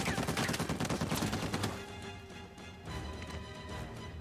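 Rapid automatic gunfire from the video game Uncharted 4: A Thief's End, a dense burst of close shots for over a second, then a lower rumble of distant firing and clatter.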